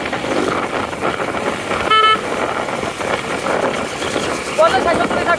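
A motorbike rides along a road in light rain, its engine and wind noise running steadily underneath, with a vehicle horn sounding briefly twice and a person talking throughout.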